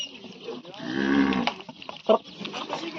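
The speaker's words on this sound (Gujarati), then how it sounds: "આ સાંજનો સમય છે, મિલ્કિંગનો ટાઈમ. બધી ગાયોને ફીડ અપાવે." Kankrej cows low at a farm during evening milking and feeding time, one long, drawn-out moo close by in the middle, with scattered shuffling and other farmyard noises around it.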